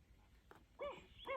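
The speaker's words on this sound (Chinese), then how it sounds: "狗狗的音效。" Dog sound effect played from a children's sound book, two short faint barks in quick succession.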